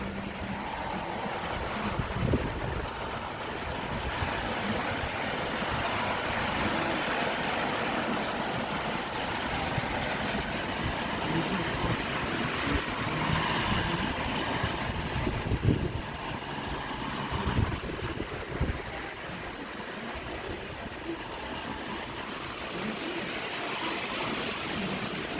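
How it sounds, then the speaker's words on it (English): Gusty wind roars steadily into the microphone during a June severe thunderstorm, a broad continuous rush with stronger surges throughout and no voices. "we are seeing some gusty winds moving on through"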